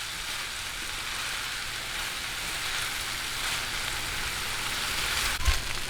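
Chicken sisig mixed with liver spread hisses and sizzles as it is sautéed in a hot pan, a steady dense crackle at close range with a brief clatter near the end.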